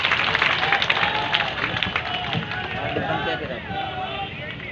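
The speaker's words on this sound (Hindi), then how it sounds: "एक बार तालियां बजाकर इनके इस अच्छे कार्य का एक बार अभिनंदन करें" A crowd applauds at a public ceremony in India marking the unveiling of statues of Panna Dhai, Udai Singh and Chandan, with dense sustained clapping and crowd babble throughout.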